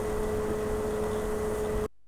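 A loud computer fan gives a steady, close whooshing roar with a faint constant whine, running without pause for about two seconds before cutting off abruptly into silence.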